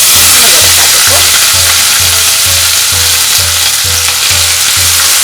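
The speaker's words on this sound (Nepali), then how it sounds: "प्याजलाई 2 मिनेट फ्राई गरौँ" Onion with black cumin, dried red chilli and bay leaf frying in oil for soybean dal, a loud steady sizzle close by, with a rhythmic low mechanical thump repeating about twice a second underneath.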